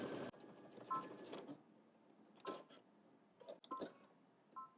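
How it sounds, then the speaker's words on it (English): A sewing machine stitching fabric in short, quiet bursts, with faint mechanical clicks between runs, heard from close by and with no talking. "let's head to the machine and stitch these"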